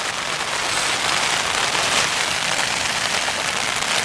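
Steady, dense patter of rain falling on a camping tent in Yosemite, a continuous close hiss with no pauses and no voices.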